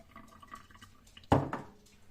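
Water runs off soaked, swollen food tipped into a kitchen colander, a short burst of splashing and draining after a quiet stretch of faint room noise, fading within a fraction of a second.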